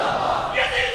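A crowd at a Shia religious gathering in an imambargah, chanting a slogan in unison in response to a speaker, a loud massed roar of voices lasting about a second.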